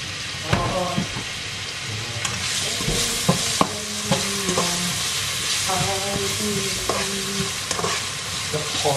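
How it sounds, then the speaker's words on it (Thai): Shallots stir-fried in a pan for seafood spaghetti, sizzling steadily throughout with repeated sharp clinks and scrapes of a utensil against the pan, close and fairly loud, no talking. "จะผัดหอม"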